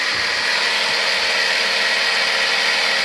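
An air pump inflates a Honda CBR600 Hurricane motorcycle tyre after a valve replacement. It gives a steady, loud mechanical drone that is continuous and close, with no talking.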